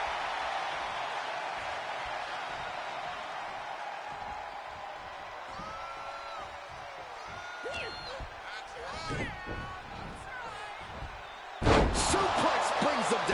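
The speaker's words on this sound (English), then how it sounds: "Suplex brings them down." Commentators talk over a wrestling crowd before a sudden loud suplex slam hits the ring mat near the end, with crowd noise swelling after the impact.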